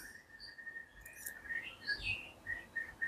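A tame white-rumped shama sings softly, giving thin whistled notes and short chirps in a quiet, faint phrase with low background hiss.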